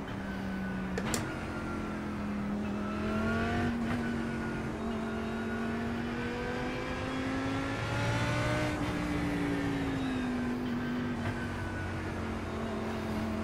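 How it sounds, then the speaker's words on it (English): Lamborghini race car engine in the iRacing sim racing game, revving loudly and steadily with rising and falling pitch as it accelerates and shifts, a continuous close engine drone throughout with no talk. "Oh, actually, this Lambo sounds sweet."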